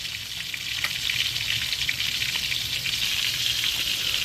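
Steak frying in extra virgin olive oil makes a steady, close sizzle with fine crackling pops. The sound holds at an even level throughout, with no one speaking.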